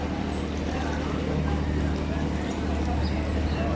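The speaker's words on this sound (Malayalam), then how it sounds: "മീൻ പിടിക്കാൻ വേണ്ടി പോകുന്ന ബോട്ടുകളാണ്." Steady low engine rumble and water wash from fishing boats at Chettuva Bunglamkadavu harbour in Kerala, a constant near drone with broadband noise filling the whole stretch and no clear talk.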